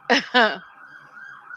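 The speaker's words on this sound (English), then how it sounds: "I hear the sirens." Sirens sound as a steady, fairly faint wail in the distance, following two short spoken syllables at the start.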